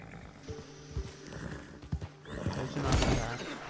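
Horse in the Red Dead Redemption 2 video game, hooves clip-clopping in a few uneven steps followed by a snorting whinny, close and moderately loud with no talking.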